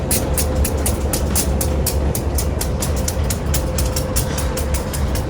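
A train rolls past nearby with a fast, regular clickety-clack over the rails and a constant low rumble, loud and continuous.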